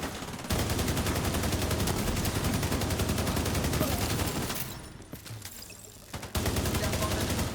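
Rapid video-game gunfire rattles in dense, sustained bursts among raiders at a raid site, cutting out briefly then resuming loud; faint talk is mixed in.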